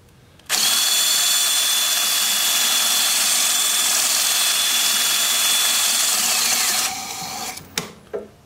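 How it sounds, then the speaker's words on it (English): A wood lathe spins forward at about 300 RPM while 220 grit sandpaper is pressed inside a turned piece, giving a loud, steady, hissing whir that runs unbroken for several seconds before tapering off with a few knocks. "the lathe is gonna be spinning forward at about 300 RPM"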